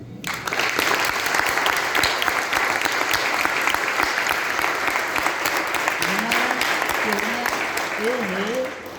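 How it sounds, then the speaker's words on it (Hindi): Sustained audience applause at an Ayurveda lecture, a dense, steady wash of many hands clapping for the full stretch, with a voice faintly audible beneath it toward the end. "आपकी तालियों की गड़गड़ाहट के साथ"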